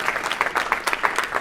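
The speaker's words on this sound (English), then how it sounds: "let's give Brian a big round of applause for that" An audience at a keynote talk applauds, with a brisk, fairly even patter of many hands clapping together for a second and a half and no talking over it.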